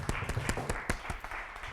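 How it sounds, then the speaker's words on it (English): Studio audience clapping for the host of a Shaw TV Nanaimo show, a short burst of separate sharp claps from a small crowd, close and fairly loud. "a big round of applause for Joni Heron and all the work that she's done on the show and shop"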